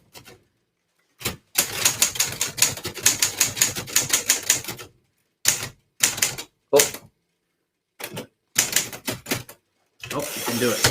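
An Underwood typewriter clacking in quick bursts of rapid keystrokes, each run lasting a second or two and separated by short silent gaps, close and crisp.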